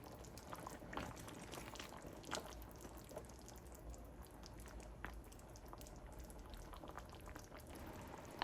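Peshawari beef slow-cooks in hot water in a covered pot, giving faint, sparse bubbling with occasional soft pops and a louder clink right at the end.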